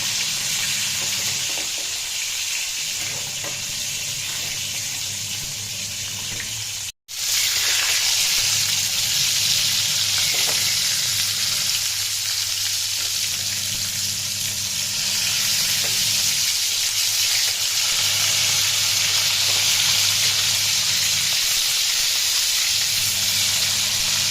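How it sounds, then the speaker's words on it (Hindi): Fish fries loudly in hot oil in a home kitchen pan, a dense, constant sizzle and hiss near the listener, broken once by a brief dropout, with faint stirring or flipping sounds beneath. "अभी हम इसको पलटते हैं मछली को। अभी दोनों तरफ से अच्छी तरह से फ्राई हो जाए।"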